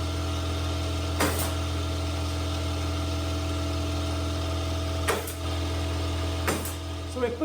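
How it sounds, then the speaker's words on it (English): Three sharp staple-gun shots fire into plywood laid over a glued wooden frame, spaced apart over a constant mechanical hum in the background. "So we put just a few staples in different parts of our outside of our frame"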